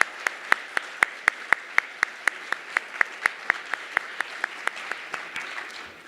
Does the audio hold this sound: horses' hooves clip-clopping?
no